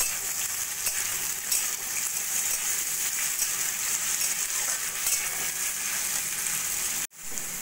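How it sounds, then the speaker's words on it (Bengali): Diced onion and bitter gourd sizzle steadily in a hot oiled pan, a close continuous crackling fry that cuts off abruptly near the end. "পেঁয়াজটা দিয়ে উচ্ছের সঙ্গে খানিকক্ষণ ভাজা ভাজা করে নেব।"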